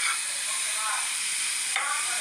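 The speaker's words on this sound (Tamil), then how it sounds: "நல்லா வதங்கட்டும்." Chopped vegetables for veg momos sautéing in a hot pan, a continuous bright sizzle with a stir partway through and a renewed burst near the end.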